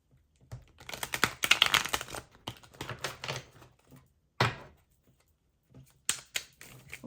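Tarot cards are shuffled by hand up close, giving crisp bursts of riffling and flicking paper clatter in uneven clusters with short quiet gaps between.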